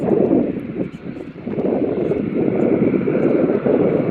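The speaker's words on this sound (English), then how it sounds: "that turboprop is just there, taxiing to the gate" An ATR 72-600 turboprop taxis toward the gate at Manchester Airport, its engines giving a steady, droning roar at moderate distance that holds loud and even throughout.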